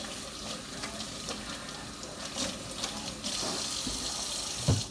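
Tap water runs steadily into a kitchen sink as a spoon is rinsed, a continuous close splashing hiss that thickens toward the end, with a brief clatter near the finish.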